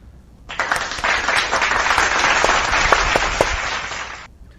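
Applause from a crowd breaks out suddenly, a dense, steady wash of clapping that holds for several seconds and then cuts off.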